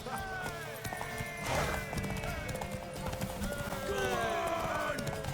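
Horse hooves pound rhythmically through a horse race in The Witcher 3, a steady clip-clop under constant game music and ambience, with a brief neigh and someone talking over it.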